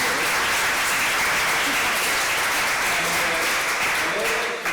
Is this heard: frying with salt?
no